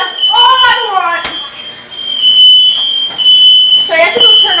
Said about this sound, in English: We were not kidding about this stupid fire alarm.